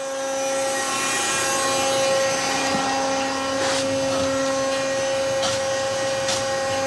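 A paver block making machine runs with its hopper feeding material, giving a loud, constant droning hum with a steady whine, broken by a few faint scraping knocks.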